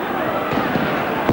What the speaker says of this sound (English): Rice anxious to use Tommy Craig as the fireworks are set off behind the goal to our right, populated by Hibs supporters.